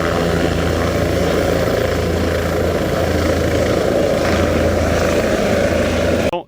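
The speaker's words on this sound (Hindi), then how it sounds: "हेलीकॉप्टर उड़ान भर रहा है।" A helicopter lifts off from a helipad near the Kedarnath pilgrimage route in the Uttarakhand hills, a loud, steady rotor and engine roar that fills the whole stretch before cutting off abruptly at the end.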